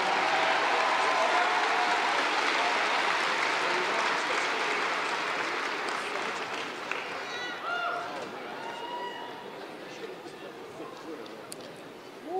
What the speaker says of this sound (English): Please join me in a round of applause for the Greenway High School Band.